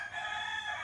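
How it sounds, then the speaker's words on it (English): Roosters crow in Bali, a single brief call that sounds faint and distant, heard alone. "Do you hear the roosters crowing?"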